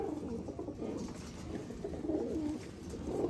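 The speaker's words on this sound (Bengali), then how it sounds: "সব বন্ধুরা এইসব চেন্নাই ব্রিডের পায়রা" Chennai breed pigeons cooing softly and continuously in a low, murmuring chorus, close by with steady level and no talk.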